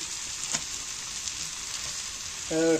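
Onion thalipeeth, a flatbread of dough and onion, roasting on a pan with a steady soft sizzle and hiss, close and fairly quiet, a brief clink near the start and a short voice-like tone at the end.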